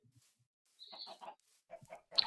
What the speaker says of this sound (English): Sorry about the chickens.